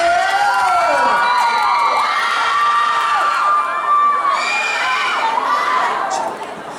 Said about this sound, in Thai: คุณทำหน้าที่ในการเชียร์ได้อย่างดีเยี่ยม